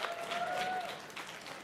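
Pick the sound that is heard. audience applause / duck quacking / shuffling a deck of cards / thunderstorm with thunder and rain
audience applause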